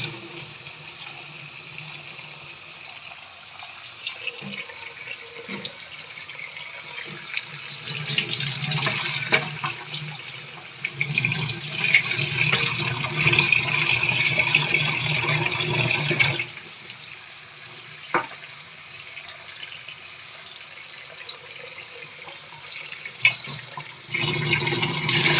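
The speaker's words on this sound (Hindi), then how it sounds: "अब इसको अच्छी तरह धो लेंगे।" Soaked black chickpeas are washed under a running kitchen tap, water splashing and sloshing steadily into a bowl or sink with intermittent swishing as the chickpeas are rubbed, close and without talking.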